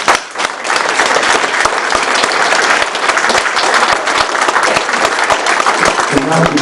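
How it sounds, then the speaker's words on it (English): Sustained applause from an audience at a village board meeting, steady and dense for several seconds before tapering, with a voice starting to talk near the end. "let's clap for them once more"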